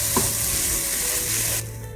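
Dal makhani stirred in a hot pan, a steady close sizzle with a faint scrape of stirring, dropping slightly in intensity toward the end, no voices.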